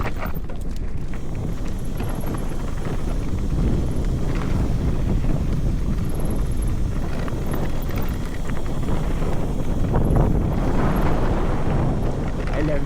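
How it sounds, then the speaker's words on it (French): Strong wind gusts roar across the microphone on a mountain hike in Washington, a loud, continuous rushing that swells and buffets throughout. "Le vent, hein? Les bourrasques de vent"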